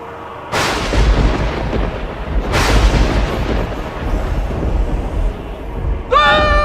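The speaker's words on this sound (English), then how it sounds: "I come with the rain and thunder." Two loud thunder cracks hit at separate moments, each with a sharp attack that trails into a long rumbling roll, in a Nollywood drama; a bright tonal sound cuts in at the very end.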